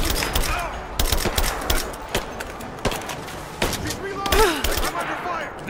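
Gunfire from the video game Rise of the Tomb Raider: a rapid run of sharp, loud shots in bursts across the clip, with a voice talking over the shooting.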